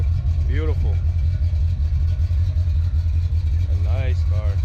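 At an outdoor classic car show in Gresham, Oregon, a muscle car engine rumbles steadily at a low idle, loud and close, while people talk briefly over it.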